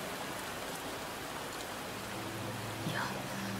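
Rain falling in a Japanese sci-fi mystery visual novel game, a steady dense hiss of rainfall throughout, with a faint soft tone entering near the end.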